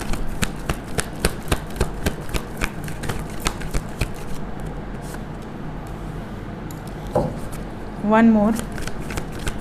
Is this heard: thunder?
no